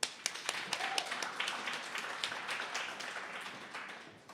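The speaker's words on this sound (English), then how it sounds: "Please, again, can we give a round of applause for our amazing panelists and our moderator," Symposium audience claps for the panelists and moderator, the faint, thin applause made of distinct individual claps that hold steady for a few seconds.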